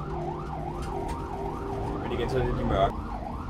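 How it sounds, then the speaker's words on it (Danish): Ambulance siren wailing in a steady rising-and-falling cycle as heard from inside the vehicle, with road noise beneath and people talking over it. "Sirene larmer meget mere herinde."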